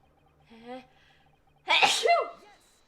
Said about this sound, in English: I sneezed through the judge's line.